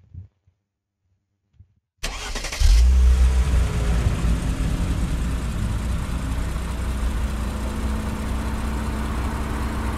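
A city bus engine from an Unreal Engine City Sample vehicle demo starts abruptly after brief silence, then settles into a steady, loud, low idle rumble that runs alone to the end.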